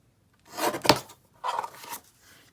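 A small paper trimmer slices through a gift tag in two quick, close scraping strokes, with a sharp click between them.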